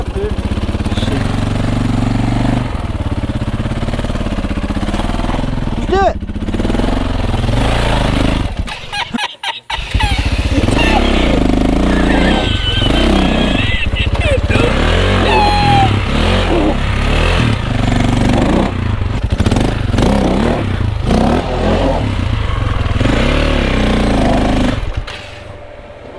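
A KTM 450 EXC dirt bike engine on a tight single-track trail drones loudly up close, revving and dropping repeatedly with a brief cut near the ten-second mark. A voice talks over the engine at times.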